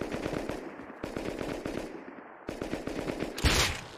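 Rapid automatic machine gun bursts from the Rust survival shooter, loud and close, firing in quick rattling volleys with short breaks near the one- and two-second marks before resuming harder.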